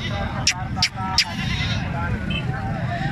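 A goat at a livestock market bleats three times in quick succession, close and clear, over the hubbub of someone talking and the busy crowd around.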